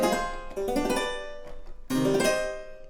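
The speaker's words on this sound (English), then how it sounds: "there's also a version of the instrument with muted strings" A sampled instrument with muted strings plays two short plucked phrases, each a cluster of quick damped notes that decay rapidly, separated by a brief near-silent gap, clear and close with no talking.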